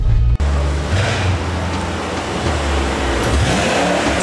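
Stage 3 Mercedes E63s with 1007 bhp revving hard, a loud, close, roaring engine blast that holds a dense growl after an abrupt start, with no talking.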